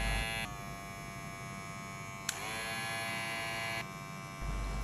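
Electric hair clippers buzz steadily at close range, switching between two machines with slightly different pitches and loudness, with a brief click midway.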